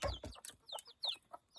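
Sebright chickens and small roosters clucking in a pen, a string of short, close, chirpy clucks and calls coming in quick irregular bursts.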